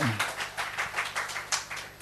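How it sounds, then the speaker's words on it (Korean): Church congregation clapping along together, a steady rhythmic patter of many hands at moderate distance, slightly uneven and continuous through the moment. "우리 하나님께 박수 올려드려요"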